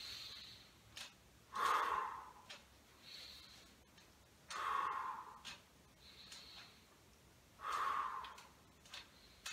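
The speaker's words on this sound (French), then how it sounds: "On inspire sur les pointes," Slow, deliberate breathing during seated gentle exercise, three long breaths spaced evenly several seconds apart, soft and close with faint ticking in between.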